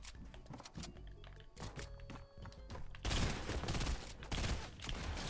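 Fortnite weapons fire in rapid, dense bursts of loud gunshots, one volley following another over the few seconds, with no talking.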